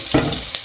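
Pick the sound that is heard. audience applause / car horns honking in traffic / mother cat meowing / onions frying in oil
onions frying in oil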